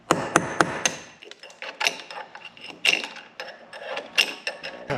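Repeated sharp hammer strikes ring out while a channel is chiselled into the mortar of a stone wall, irregular metallic knocks close by, with no talking.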